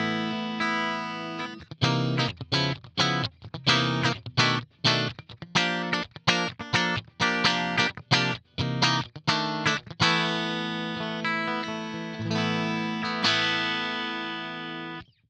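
A Strandberg Boden Standard NX 6 electric guitar in the middle pickup position, combining two single-coils, plays quiet, bright, clean chords in short rhythmic stabs before sustaining longer strummed chords, with no talking.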